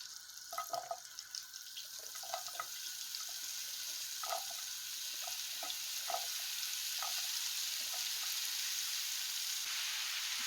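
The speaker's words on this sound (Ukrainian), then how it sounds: "Все ретельно перемішуємо і добре-добре їх будемо обсмажувати." Forest mushrooms fry in butter in a pan, giving a continuous bright sizzle broken by soft clicks and scrapes as they are stirred, with the crackle growing steadier and fuller toward the end.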